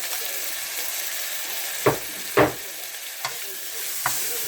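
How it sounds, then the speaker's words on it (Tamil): Ginger garlic paste sizzles steadily in a hot pan for a South Indian shrimp curry, with a few distinct scraping strokes as it is stirred over the constant frying hiss. "இப்போ பார்த்தீங்கன்னா இஞ்சி பூண்டு பேஸ்ட் போட்டுக்கிறேன்."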